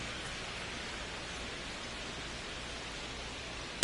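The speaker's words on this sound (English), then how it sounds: "This rain is not letting up." Steady broadband rain at a Kansas City Royals baseball stadium during a Yankees game, a continuous even hiss throughout with a brief sharp knock at the very end.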